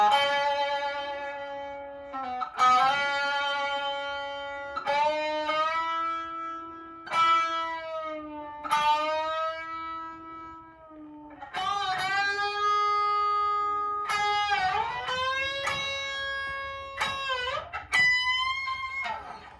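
An electric guitar plays a part from a song with a low bass line worked in underneath: plucked notes with frequent bends and slides, a repeating low figure under higher phrases, close and clear with no voice.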